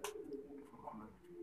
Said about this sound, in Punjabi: ਇਹ ਫੈਸਲਾਬਾਦ ਦੇ ਕਬੂਤਰ ਆ ਜੀ